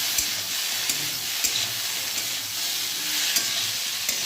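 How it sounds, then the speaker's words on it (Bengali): Vegetables and chopped tomato frying in a pan, giving a dense, continuous loud sizzle broken by a few light stirring scrapes close by, with no voices. "এবার আরেকটু ভালো করে নাড়াচাড়া করব, তারপর জল দেব।"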